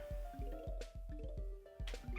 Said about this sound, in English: now a few zombies will rise from the water around here